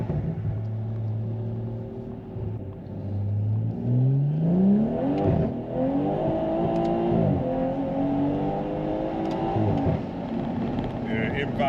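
A BMW M140i with a B58 engine and a Stage 2 tune accelerates hard from 20 to 70, its engine rising in pitch through several gear changes. The run is close and loud from inside the car, and no one speaks.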